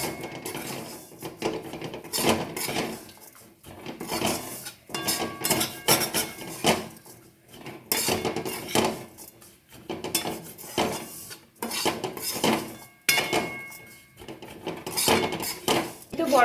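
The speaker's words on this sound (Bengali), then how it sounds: "বড় চামচে দু চামচ গুঁড়ো দুধ দিয়ে দিচ্ছি খুব ভালো করে মিশিয়ে নিতে হবে সেমাইয়ের সাথে" A large spoon scrapes and clinks against a pot while powdered milk is stirred into vermicelli for a Ramadan dessert, giving repeated close metallic rasps in steady bursts with no talk.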